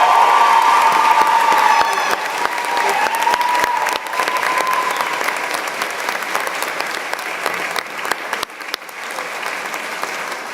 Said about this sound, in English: please give a round of applause to the faculty and staff who are here in